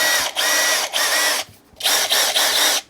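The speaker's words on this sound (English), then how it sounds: "It says Kobalt 1/4 inch brushless impact driver." A Kobalt 1/4 inch brushless impact driver, model KID 124B-3, runs in several short, loud bursts of high whirring motor noise with brief pauses between, close up and with no talking.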